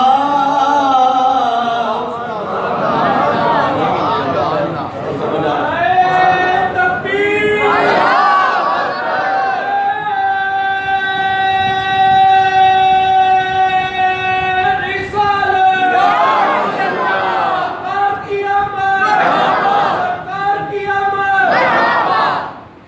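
A large gathering in a mosque during a religious sermon chants slogans in unison, with loud sustained voices in rising and falling calls and responses that swell and fade over the whole stretch.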